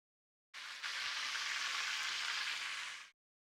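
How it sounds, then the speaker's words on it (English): Food fries in a pan with a dense, steady sizzle that starts abruptly, holds for about two and a half seconds, then stops, heard close and at moderate level with no talking. "Can't hear it over the frying."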